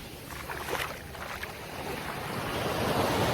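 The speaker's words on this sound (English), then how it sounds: "Do you hear the sound of these waves" Ocean waves wash and surge continuously outdoors, a broad steady roar that swells louder toward the end, with wind buffeting the microphone.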